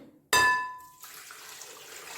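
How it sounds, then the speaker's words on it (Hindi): Water splashes into a pressure cooker holding about two kilograms of bone-in beef for a Kabuli Afghani pulao, starting with a bright ringing splash and fading into a soft trickle. "और ये मैं पानी डालूँगी"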